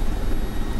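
A helicopter flies in the combat flight simulator DCS World, its engine and rotor making a steady, loud, dense roar that runs without a break through the brief moment.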